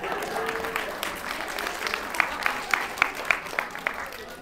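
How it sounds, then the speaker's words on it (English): Audience applause during a motivational talk on programming yourself for success, a broad wash of clapping with a few sharp, prominent claps standing out near the end over a murmuring room. "Give yourself a round of applause."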